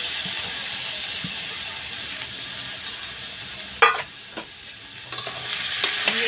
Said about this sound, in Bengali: এবার এর মধ্যে এবার মটনটা দিয়ে দিচ্ছি।